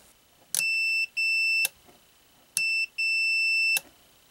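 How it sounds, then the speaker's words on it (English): Electronic beeper wired into a Subaru's battery circuit, sounding in two bursts, each a short tone then a longer one, steady high pitch, with quiet gaps between. "It's wired up to beep when the circuit's closed."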